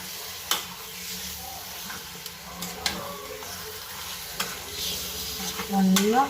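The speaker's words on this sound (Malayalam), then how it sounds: "നമ്മുടെ ചിക്കൻ ഇട്ട് കൊടുക്കാം. നന്നായിട്ട് മിക്സ് ചെയ്യാം." Chicken pieces are stirred into a pan of cooked-down tomatoes for a roast, with a soft sizzle under repeated scraping and clanking of a spoon against the pan, growing louder at the end.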